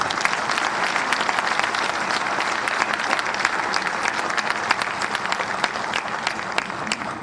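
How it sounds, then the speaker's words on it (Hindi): A crowd at a BJP welcome ceremony in Haryana for newly elected mayors and councillors claps steadily and densely, a loud, continuous wash of applause without speech. "इनके लिए इतनी जोरदार बजाओ ताली जो दिल्ली तक सुन जाए"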